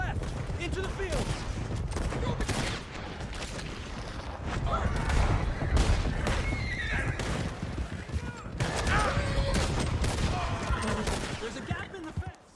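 Horses in Red Dead Redemption 2 neigh and whinny during a mounted chase, with galloping hooves and bursts of gunfire mixed into a loud, busy scene.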